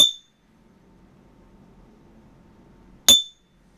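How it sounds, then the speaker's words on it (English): Two bright, ringing clinks of struck glass, about three seconds apart, each decaying quickly with a bell-like tone over faint background hum. "some bell sounds from the bottle"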